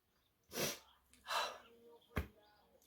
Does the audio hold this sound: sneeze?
yes